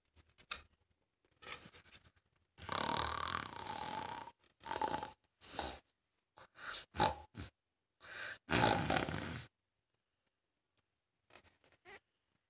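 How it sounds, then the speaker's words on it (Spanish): Loud, rough snores from a grandfather come in irregular bursts with quiet pauses between them, close by and with no talking. "El popo ronca bien fuerte."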